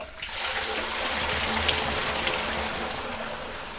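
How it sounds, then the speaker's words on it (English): Liquid pours steadily from the tap of a stainless steel electric drum tipper, a continuous close gushing stream that starts abruptly and holds level throughout. "Got a tap here, so I'm just going to open that one up."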